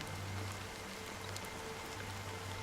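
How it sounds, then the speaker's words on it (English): Steady rain falls in a video game scene, a dense, even hiss of drops on surfaces that holds at a constant level without any talk. "I like the sound of rain."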